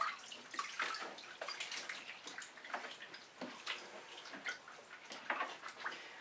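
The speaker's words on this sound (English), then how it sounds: "I'm going to have to rinse my hands off" Tap water runs and splashes while paint is rinsed off hands, a continuous soft spattering with uneven bursts, close and fairly quiet.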